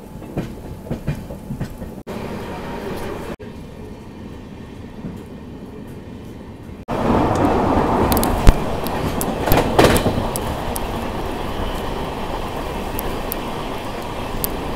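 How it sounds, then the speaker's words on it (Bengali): Humsafar Express pulling out of Jalpaiguri Road station in heavy rain: a steady low rumble with rhythmic clickety-clack that grows louder and fuller as the train gathers pace, with no voices. "আর আমাদের ট্রেন ছেড়ে দিল জলপাইগুড়ি রোড থেকে।"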